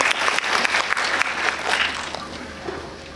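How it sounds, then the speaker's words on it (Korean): A theater audience applauds together at a film guest-visit event, a dense, steady wash of clapping that fades off toward the end without any voices over it. "여러분들 박수 부탁드립니다."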